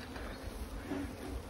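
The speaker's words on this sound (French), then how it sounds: "une dizaine de ruches, ça bourdonne un peu autour de nous" Honeybees buzz around roughly ten beehives beside a field, a dense, steady outdoor hum of many insects close by with no talk.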